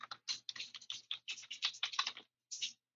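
Typing on a computer keyboard: a quick, close run of crisp key clicks in an uneven rhythm, then a brief pause and a final few taps, with no other sound.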